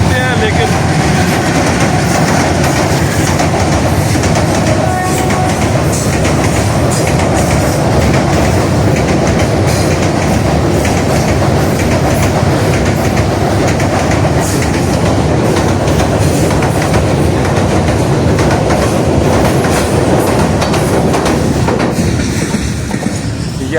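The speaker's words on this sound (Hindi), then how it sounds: "तो आइए देखते हैं ट्रेन कैसे गुजर रही है भी मालगाड़ी" A freight train rumbles loud and close across a bridge above a river, wheels clattering in a steady clickety-clack with some squeal, shaking the structure throughout; a voice talks faintly underneath.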